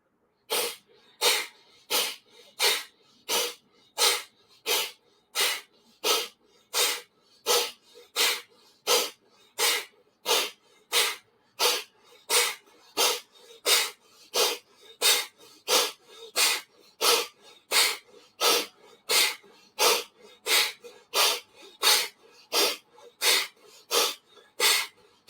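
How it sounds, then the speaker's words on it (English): Kapalabhati alternate-nostril yoga breathing: about thirty sharp, forceful nasal exhalations in a steady, even rhythm, close and loud, with quiet pauses between each puff and no talking. "go Kapalabhati, left to right breathing."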